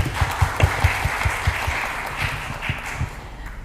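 An audience of early-childhood teachers at an education office gathering in North Jakarta, Indonesia, claps together in a sustained burst of applause, moderately loud and filling the room, with a few heavier claps standing out.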